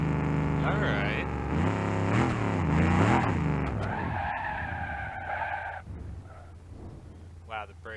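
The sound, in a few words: car brakes locking up and tires skidding in BeamNG.Drive video game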